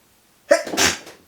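A single sharp human sneeze bursts out after a moment of near silence, close and loud, with a short breathy tail.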